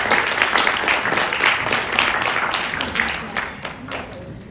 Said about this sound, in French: Maintenant, applaudissez fortement pour que la scène commence.